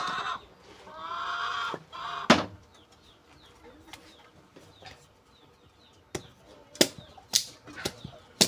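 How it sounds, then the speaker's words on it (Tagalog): Chickens clucking in short bursts with sharp squawks, fairly close, a louder cluster of calls near the end. "Ingin ng manok."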